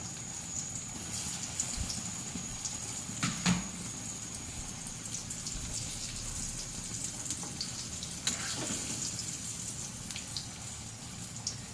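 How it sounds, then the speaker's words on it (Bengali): Raw banana kofta balls fry four at a time in a pan of oil, giving a faint, steady sizzle with occasional soft clinks of a utensil against the pan. "এখানে 4টে করে আমি দিয়ে ভাজছি।"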